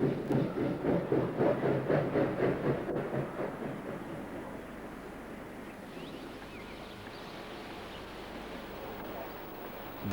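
A class 50.35 steam locomotive, one of the black Mustangs in the Harz in the 1980s, rolls along the rails with a rhythmic clickety-clack that fades into a steady rumble as it passes.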